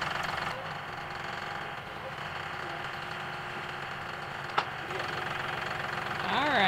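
A tractor engine idles steadily with a low, knocking rumble on a bison ranch. A sharp click sounds partway through.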